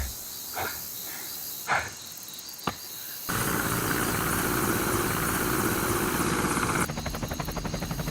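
A helicopter over an action-movie combat scene, a loud steady engine and rotor drone that cuts in after a few sharp thumps and holds close and dense to the end.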